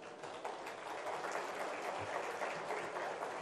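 Steady applause from an audience at an opening show for 4-6 year old Quran course students, a dense sustained clapping that fills the hall without letup.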